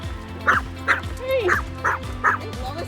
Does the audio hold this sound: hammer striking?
no